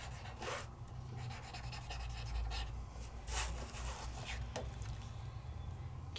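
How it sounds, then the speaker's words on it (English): A paper blending stub rubbing colored pencil across vellum, a soft continuous scratchy friction with a few sharper strokes, close up and quiet, with no voices. "And I'm just using a paper stub."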